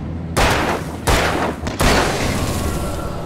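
Three sharp, loud gunshots from Alan Wake ring out about half a second apart, each leaving a long reverberant tail.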